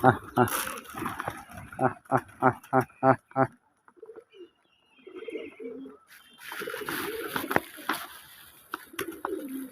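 Pigeons coo on a railing, a run of soft rhythmic calls early on, then scattered coos later while someone talks over them.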